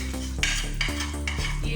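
Cashew paste being stirred into butter chicken in a pan, a steady close sizzle with repeated scraping strokes of a spoon against the pan.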